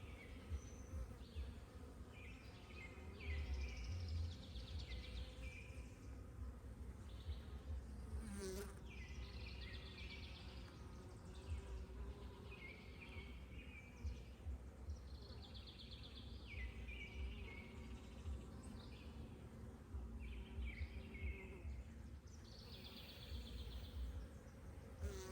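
Dense, steady buzzing of many honeybees swarming over an open hive during a frame inspection, a close, continuous drone with no pauses for the whole stretch, with faint bird calls in the background.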